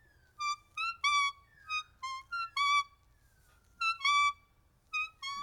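A person imitates a parrot call with a quick series of shrill, squeaky chirps and short whistled squawks that come in uneven bursts over quiet background.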